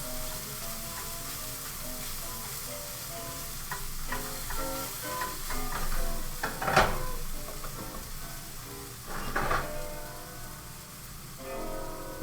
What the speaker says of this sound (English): It's just gonna kind of all be like simmering together from this point.